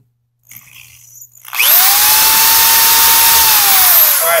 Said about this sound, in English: It allows me my drill bit to ride somewhere so it's not slipping all over the place.